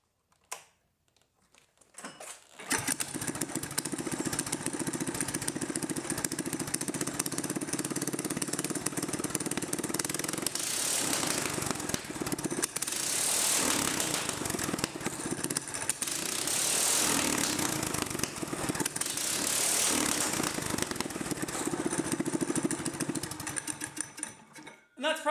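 Mini-bike small engine with stock carburetor and custom exhaust starts and runs loudly for about twenty seconds, revving up and down in repeated surges, close to the listener with no talk over it.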